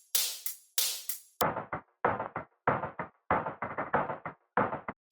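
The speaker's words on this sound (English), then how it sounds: "which I turned into more of a filtered percussion loop with some effects." A hi-hat loop reworked into a filtered percussion loop with effects: two bright airy sweeps lead into a choppy, repeating pattern of short, knocking hits with quick decays in a steady groove, fairly quiet, with no voices.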